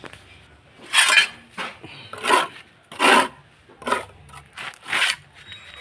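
Trowel scooping and scraping soft mortar mix for fixing tile trim on a construction job, a series of about six separate gritty scrapes in a steady rhythm, close and clear.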